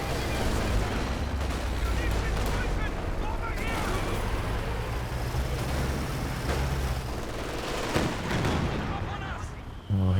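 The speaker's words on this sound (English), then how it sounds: "Oh, here we go. Katyusha barrage." A Katyusha rocket barrage in a war video game, a dense continuous roar of rumbling blasts and crackling impacts, loud and sustained, with a voice talking over it.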